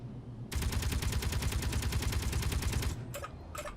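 Interior turrets in Space Engineers fire a continuous rapid burst at a ship's thruster, a loud, dense, evenly pulsing rattle that runs for a few seconds and stops abruptly, followed by a couple of short trailing shots.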